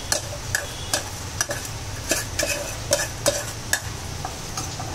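A spoon stirs sabudana khichdi with potatoes in a pan, making rhythmic scraping clicks and soft taps at a steady pace, close and clear, with no talking.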